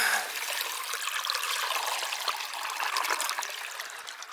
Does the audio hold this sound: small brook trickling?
yes